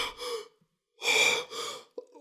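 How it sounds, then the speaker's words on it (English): A king gasping for breath on waking: two sharp, loud gasping inhalations with a pause between, close and breathy, then a brief softer catch at the end. "the king woke up, gasping for breath"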